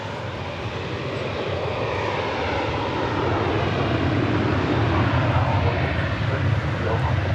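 Airbus A350-1000 jet airliner at DFW Airport, a steady broadband engine roar that swells slightly over the seconds, continuous and fairly loud, with a voice talking over it.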